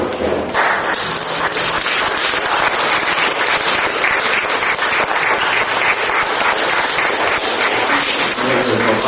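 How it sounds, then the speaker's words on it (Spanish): An audience applauds a boy and his father during a confirmation ceremony, steady dense clapping that fills the room for several seconds without letting up. "Un aplauso para el muchachito y su papá."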